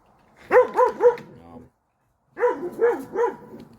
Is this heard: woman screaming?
no